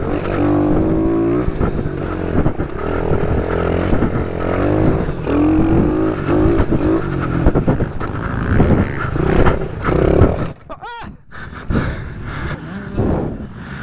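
A YCF mini motorbike runs a lap of a small circuit, its engine revving up and down in repeated close, loud surges with brief throttle lifts and mechanical clatter.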